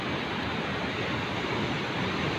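Strong sea waves surge at Karapyak beach in Pangandaran, a steady, dense roar of surf with wind, moderately loud and continuous, with no voices.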